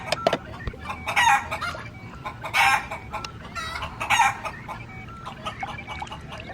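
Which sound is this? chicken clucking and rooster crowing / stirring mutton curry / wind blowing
chicken clucking and rooster crowing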